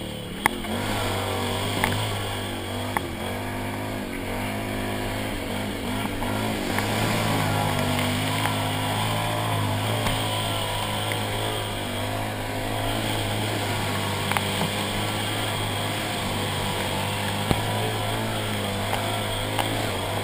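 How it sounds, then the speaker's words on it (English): A 2012 Can-Am Outlander 1000 XT ATV on 29.5-inch High Lifter Outlaw tires, engine running with a steady low drone that rises and falls in pitch, joined by scattered knocks and splashy noise. "This unit that I'm running here, it is a 2012 Outlander 1000 XT"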